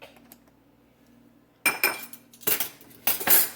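A spoon clinks and scrapes against a bowl as curry powder, umami spice blend and turmeric are mixed, starting after a quiet pause and continuing in three bursts of close metallic clatter.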